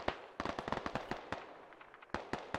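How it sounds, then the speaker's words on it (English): Distant gunfire in a military shooter game: irregular sharp cracks and short bursts of shots, faint and echoing, with uneven gaps between volleys. "taking shots from the northeast as well."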